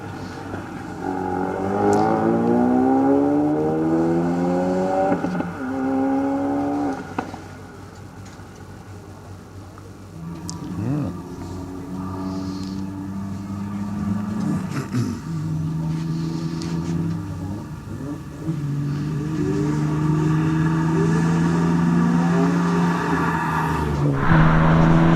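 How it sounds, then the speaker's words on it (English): A race car, a Nissan Skyline, climbs a hillclimb course at the Legend of the Lakes event, its engine revving hard through repeated gear changes, fading briefly as it passes away, then rising again in the distance. "he'll be followed by Craig Day in his Nissan Skyline"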